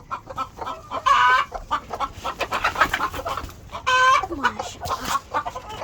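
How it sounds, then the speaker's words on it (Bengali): Farmyard chickens cluck loudly and close, with repeated sharp squawking bursts and quicker clucks in between, and no talking. "মুরগিগুলো কত সুন্দর দেখুন"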